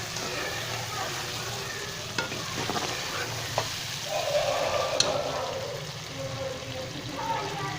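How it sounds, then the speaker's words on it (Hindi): Yogurt being added to chicken karahi masala in a sizzling wok, with a steady frying hiss, stirring scrapes and a brief burst of bubbling and pouring midway. "अभी हम इसमें दही शामिल करेंगे।"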